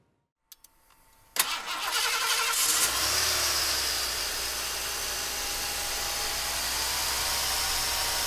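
A 1989 Lincoln Town Car engine starting: a couple of faint clicks, then a sharp crank that catches after a second and settles into a steady, close, smooth idle.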